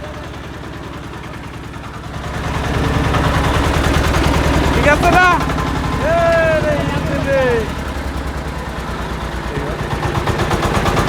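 Diesel engine generator, a Changchai or Sifang unit, hand-cranked and running nearby with a steady rapid chugging throughout, building louder after the first two seconds while people talk over it.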